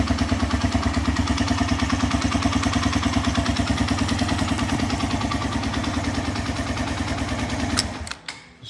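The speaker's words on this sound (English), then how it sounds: "So we've got the bike running, runs perfectly fine." A 125cc motorcycle engine running after a hydrolock repair, idling with a steady rapid thumping rhythm and some clatter, loud and close, before it cuts off abruptly near the end.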